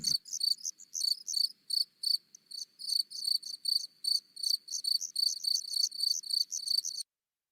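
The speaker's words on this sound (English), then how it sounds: "Where is the chirping grasshopper from the story?" A grasshopper chirps in rapid repeated pulses, forming a steady shrill trill that is close and clear against silence, then stops abruptly.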